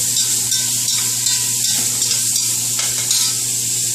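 Food browning in a pan on a stovetop burner, a loud, steady close-up sizzle with faint stirring scrapes throughout and no talking.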